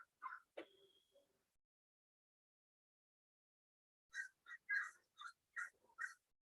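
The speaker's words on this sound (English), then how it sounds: "Oh, some crows or something back there." Crows calling in the distant background: a quick series of about six short, harsh caws in the second half, preceded by a brief faint call, with near-silence otherwise.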